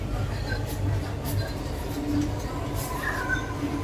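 A Chennai Metro train pulls out of Egmore station with a low, steady rumble and rolling hum inside the carriage, faint higher whines rising over it; quiet background voices can be heard.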